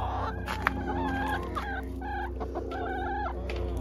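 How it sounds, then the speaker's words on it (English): Backyard chickens cooped up all day, clucking and squawking in repeated short calls close to the microphone over a steady low hum, with no talk. "These poor chickens think they're picked on because they've been cooped up all day."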